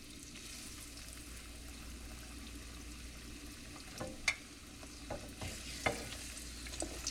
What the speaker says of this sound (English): we're just gonna fry them up until they're golden brown